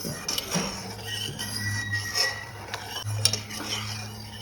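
Milk-powder gulab jamuns frying in oil are stirred with a metal spoon in a pan, giving light, irregular clinks and scrapes against the metal, close up over a low steady hum, with no talking.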